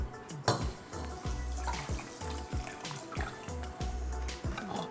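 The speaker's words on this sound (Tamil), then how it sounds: "அதை நம்ம சுகர் சிரப் ஊற்றிடலாம்." Sugar syrup pours and splashes into water in a steady stream, with repeated dripping plops and faint clinks throughout.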